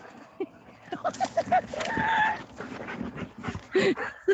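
Two dogs playing together, with yips, whimpers and short growly bursts in a busy, scuffling tumble at close range; scratchy rustling fills the gaps between vocal sounds.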